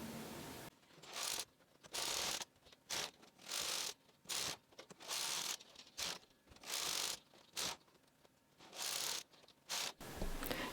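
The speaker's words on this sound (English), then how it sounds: "Now we just knit back and forth for the length we like." A Brother 260 bulky knitting machine carriage is pushed back and forth across rows, giving repeated loud mechanical ratcheting sweeps about a second long, separated by short pauses, with no talking.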